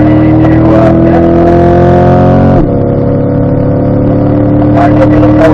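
A Corvette's engine pulls hard on a racetrack and then drops sharply in pitch as it upshifts into fifth, after which the engine holds a steady, loud drone close to the car.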